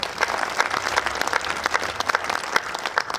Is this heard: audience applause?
yes